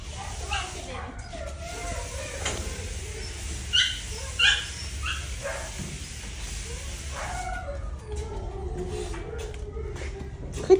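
A shelter dog in a kennel whimpers and yips in high, thin bursts, with a few short barks, while a person talks softly over steady background noise.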